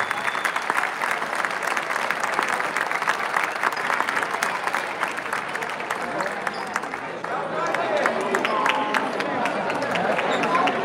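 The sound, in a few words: audience applause at basketball award ceremony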